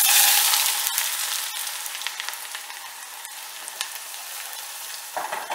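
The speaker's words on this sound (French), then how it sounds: "En attendant de faire revenir les oignons" Onions sizzling in peanut oil in a pan, a steady bright frying hiss that starts loud and settles slightly, with a few faint clicks and no voices.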